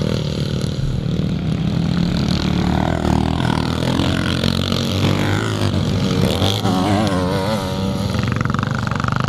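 Classic BSA motorcycles race in an over-60s class motocross at Thornhill, engines buzzing and revving continuously at mid distance, rising and falling as riders pass.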